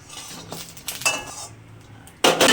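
Metal clatter of a lid set onto a cooking pan, a few light clinks and scrapes ending in a louder clanking contact.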